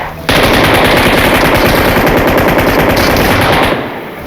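Rapid gunfire from a shotgun in a video game, a dense sustained burst lasting several seconds at close range, loud and continuous before cutting off.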